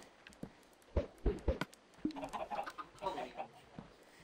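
Chickens cluck in the video game Minecraft, with a few short separate clucks early on, then a busier patch of overlapping bird calls. Everything sits at a moderate level in the game's ambience.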